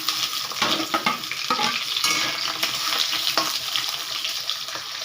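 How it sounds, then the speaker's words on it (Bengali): Potato pieces fry in hot oil in a home kitchen pan, giving a steady close sizzle with crackling bursts and occasional stirring scrapes, with no voices over it. "এবারে ওই তেলের মধ্যে আলুগুলো ভেজে নেব।"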